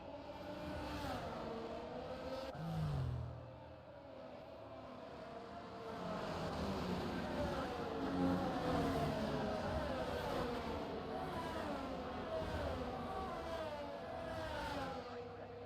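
F1 cars in the F1 22 video game pulling away at a safety car restart, a quiet, layered engine whine rising and shifting in pitch as the pack accelerates, with a brief louder swell early on.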